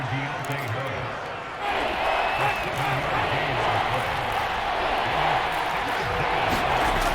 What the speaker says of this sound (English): Crowd is getting into it.